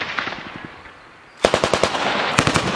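Machine guns fired by Estonian Defence League members into scrap cars on Muhu island, with a scattered rattle first, a short lull, then sharp rapid bursts of loud shots close by.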